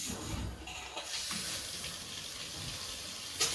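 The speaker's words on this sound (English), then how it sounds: "I'm going to go ahead and turn on the water now." Steady rush of running water from a newly installed kitchen faucet, continuous and fairly close, with a brief clink near the end.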